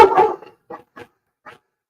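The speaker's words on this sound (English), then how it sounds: "the chihuahua's out again" A chihuahua barking indoors, one close, loud burst of yapping followed by three short, sharper yips spaced apart, then silence.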